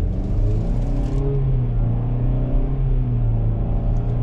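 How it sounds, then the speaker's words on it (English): A 2024 Chevrolet Blazer 2LT AWD with a four-cylinder engine accelerates under load, giving a steady, droning engine rumble heard from inside the cabin with a slowly rising pitch. "These four cylinders are gonna be noisy under load, but once you take your foot off, it quiets down."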